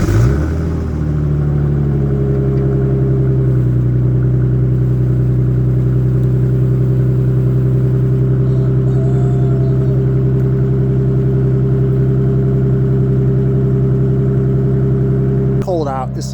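A stock Ford Mustang SN95 engine idles cold, around 30-some degrees, with a steady, loud low rumble running unbroken throughout, close by.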